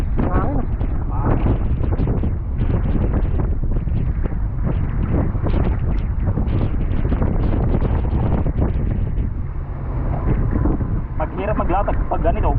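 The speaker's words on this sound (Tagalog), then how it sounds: "Maghirap maglatag pag ganito. Mahangin eh." Strong outdoor wind buffets the microphone in a steady, loud roar with gusty surges throughout, while people talk nearby at a seaside spot where things are being laid out.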